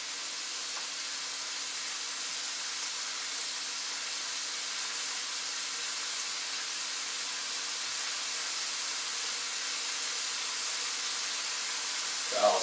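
Garlic frying in a pan, a steady broadband sizzle and hiss held at an even level throughout, with a brief clink near the end.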